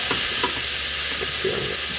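Chopped onion and carrot tossed and sautéing in a hot pan, a steady close sizzle with a few soft stirring scrapes and shuffles, no talking.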